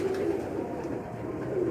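Breeder pigeons cooing close by, soft throaty rolling coos repeating through a short stretch, mid-level and with no voices over them.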